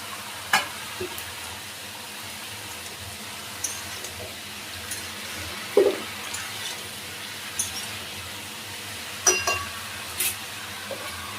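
Salted pumpkin and eggplant pieces fry in a pan with a quiet, steady sizzle, marked by occasional sharp clinks and scrapes of a spatula at irregular intervals.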